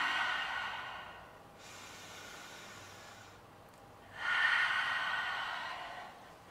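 Two slow, deep breaths from a child, each a long airy exhale followed by a quieter inhale, close and clearly audible with no talking.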